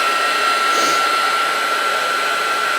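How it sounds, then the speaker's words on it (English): A handheld craft heat tool blowing hot air to dry paper before inking, a loud, continuous close-up whoosh with a steady high whine, unbroken throughout. "I have my heat tool right here. Heat up just a second."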